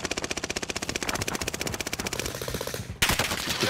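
Rapid automatic gunfire in a shooter video game, a fast regular burst of loud shots for about three seconds, followed by another sharp burst of fire.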